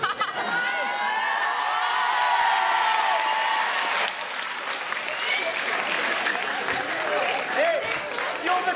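Enthusiastic applause and cheering from an audience at a French public-speaking event, sustained for several seconds with scattered whoops and shouts over the steady clapping.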